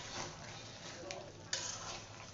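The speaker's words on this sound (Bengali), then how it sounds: "এক সাইডে মাছগুলা রেখে দিয়ে তারপরে এইভাবে কষাচ্ছি।" Fish pieces and vegetable stems sauté in a pan, giving a soft, steady hiss of low sizzling with a faint clink near the end.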